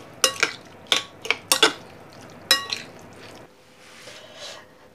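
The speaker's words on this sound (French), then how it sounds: "Et on mélange." A spoon works pepper and olive oil together in a bowl for tomato bread, giving a few sharp clinks and taps in quick succession, then a quieter stretch of soft scraping, close and with no voices.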